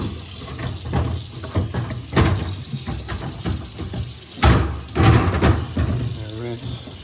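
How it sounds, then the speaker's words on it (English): Water rinsing sandpaper by hand while wet-sanding a car headlight during restoration, a few short splashy bursts of running water close by, with talk heard in between. "Give it a rinse."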